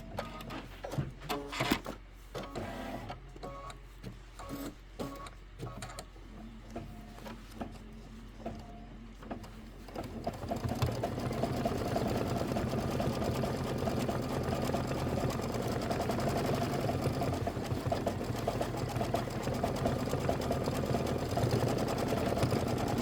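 Embroidery sewing machine stitching out an applique quilt block: quieter irregular clicking at first, then a loud, steady, rapid mechanical stitching drone, close and alone.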